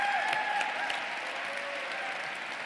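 A crowd at an Operation Smile charity event gives warm, continuous applause, a full, even roar of clapping heard from within the room and easing slightly toward the end.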